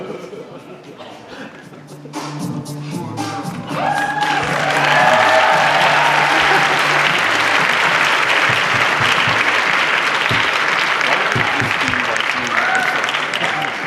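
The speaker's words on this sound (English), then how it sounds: "Give them a round of applause as they leave the stage" Applause and some cheering rise from a crowd at a convention cosplay contest, starting under talk and music, then swelling into loud, continuous clapping as a group leaves the stage.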